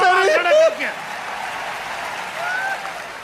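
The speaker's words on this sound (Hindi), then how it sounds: "जरा ताली बजाओ" Audience applause breaks out at a Hindi comedy poetry gathering (kavi sammelan) in Kota, a dense crowd clapping that follows a brief burst of a voice and carries steadily to the end.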